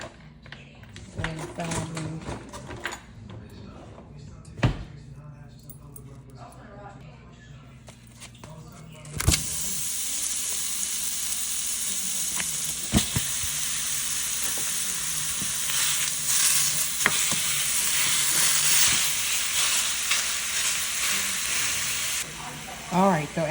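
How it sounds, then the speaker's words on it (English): Meat hits a hot pan on a tripod setup and starts to sizzle, a quiet start with thumps and clatter, then a loud, bright, steady frying hiss that swells and holds until near the end. "We're going to just let that heat a little bit, just so the meat can start cooking right away."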